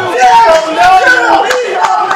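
A wrestling crowd roars and yells steadily throughout, a dense wall of loud shouting voices from an arena audience.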